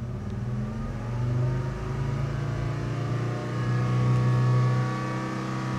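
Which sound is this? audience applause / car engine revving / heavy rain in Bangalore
car engine revving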